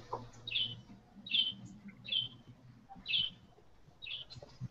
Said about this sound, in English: I can hear that bird.